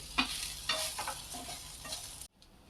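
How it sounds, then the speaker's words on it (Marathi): Okra is mixed into cooked masala in a pan with the gas turned off, giving a soft sizzle and several scraping stirs close by before the sound cuts out abruptly near the end. "इथे आपण आता हा गॅस आपला बंद करून देऊ भेंडीला मिक्स करून घेऊ"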